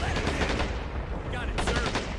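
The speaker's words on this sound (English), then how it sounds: "Clear out the machine gun and the mortar." Rapid machine gun bursts crackle in a WWII battle for Iwo Jima in Men of War: Assault Squad 2, dense and continuous with overlapping shots and a rumbling low end throughout.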